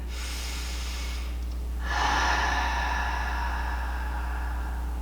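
Slow, sustained breathing during a foot-rolling exercise on a ball, with a long soft exhale sound that swells midway and continues steadily under a low constant hum.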